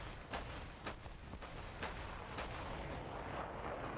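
Rapid anti-aircraft cannon fire in War Thunder, a series of sharp bursts at an uneven rhythm over a rumbling battlefield background, with no talk.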